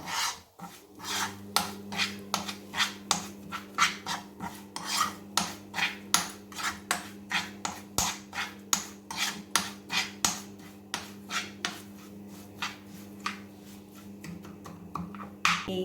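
Spice masala being stirred into oil for a green chilli pickle, giving a steady series of rhythmic scraping, rasping strokes of a spoon against the vessel, close and fairly quiet, with no talking.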